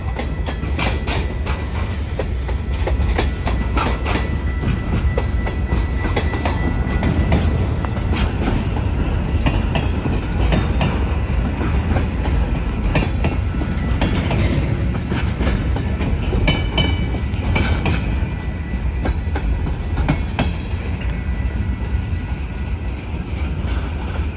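Moving freight train at the CPKC Bensenville intermodal terminal, heard close alongside: a steady, loud rumble of rolling cars with rhythmic wheel clatter and occasional metallic clanks, no voices.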